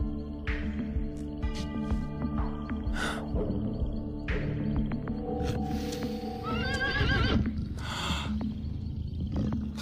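Bucephalus the horse neighs and whinnies repeatedly in a scene from the animated series Reign: The Conqueror, amid a busy scene with hoof clip-clops and shifting background noise, the calls loud and close over roughly ten seconds.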